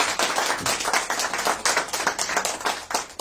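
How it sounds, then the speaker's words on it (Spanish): A church congregation applauds together in a steady, rhythmic burst of many hands clapping, loud and close, with no talking over it. "Démosle el mejor aplauso al Señor en esta hora."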